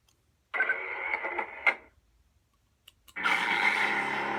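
A custom lightsaber's steady electric hum swells in, flickers briefly, cuts out, then returns louder and sustained, buzzing with a harsh, aggressive edge.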